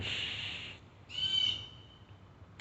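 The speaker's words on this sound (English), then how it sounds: "Birds singing its song out to the world." A single bird calls outdoors over dewy grass, a steady high hiss-like whistle about a second long, a brief pause, then a second brighter, slightly warbling phrase that fades, moderately near and fairly quiet, with no talking.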